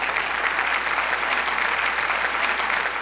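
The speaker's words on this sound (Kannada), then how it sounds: "ಕರೆಕ್ಟ್ ಇದ್ರೆ ಚಪ್ಪಾಳೆ ಹೊಡಿಬೇಕು" Audience applause at a live Ugadi comedy chat show, a steady, dense wash of clapping sustained throughout with no pauses or talk.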